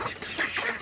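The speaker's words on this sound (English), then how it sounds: "Hello, baby ducks." Baby call ducks give soft, faint quacks, a few brief calls in a quiet outdoor morning setting as birds are let out.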